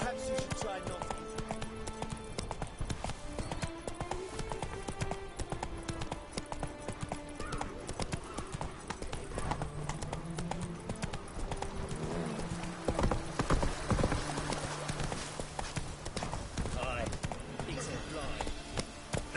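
A horse gallops in The Witcher 3: Blood and Wine, with steady rapid hoofbeats under a running music score and a voice speaking over it.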